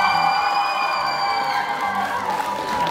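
Loud, sustained applause and cheering from a student audience at a university spring talent contest, with whoops and sustained voiced shouts over steady clapping throughout.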